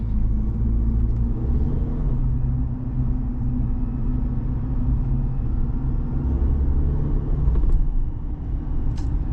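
Low steady engine rumble inside a 2.7L high-output turbo Chevrolet Silverado pickup as it accelerates, a continuous close drone with faint whine from turbo spool.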